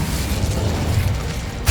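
Incendio, a fire spell, is cast in the Hogwarts Legacy video game, producing a steady roaring whoosh of flame with a low rumble and ending in a sharp burst.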